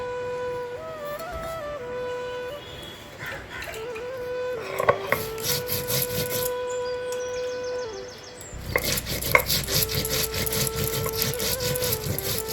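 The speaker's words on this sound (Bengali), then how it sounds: "বেটে নিব জিরা" Cumin is ground into a paste for a Bengali-style mushroom masala, making repeated close rubbing and scraping strokes over a steady tonal background.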